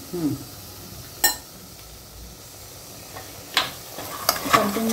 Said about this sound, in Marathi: आता याला छान आपण परतून घ्यायचं जेणेकरून तेल पण छान सुटेल आणि मसाला पण छान आपला परतवला जाईल